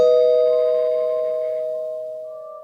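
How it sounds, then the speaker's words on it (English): A doorbell on a house front door gives a single clear, loud chime that rings out and slowly fades over a couple of seconds, alone with no voices. "He rang the bell again."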